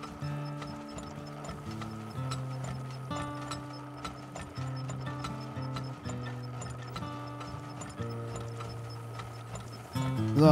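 Horses clip-clopping in the oil-drilling video game Turmoil, a rhythmic string of hoof steps over a looping game music bed, with occasional mechanical clicks and a brief whinny-like rise at the end.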